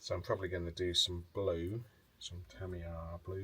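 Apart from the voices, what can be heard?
No everyday noises stand out.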